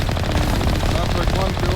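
Heavy automatic gunfire from the video game Mass Effect rattles in a dense, loud, continuous stream of rapid shots, with voices partly mixed in underneath.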